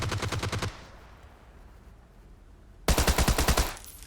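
Automatic gunfire in a battle royale video game: two loud rapid bursts, one at the start and another near the end, separated by a quiet stretch.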